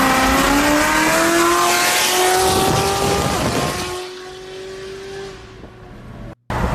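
Race car engine revving hard and accelerating through rising gear pulls, loud and close, with screaming harmonics that fade as it moves away and a brief burst at the end; the car is a Z06 with an 8-speed gearbox.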